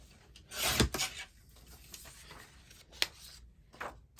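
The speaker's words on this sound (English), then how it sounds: "so I'll trim that bit off" Paper border being trimmed for a card-making project, heard as a brief close rasping cut followed by a few lighter scraping and tapping touches, with no talk.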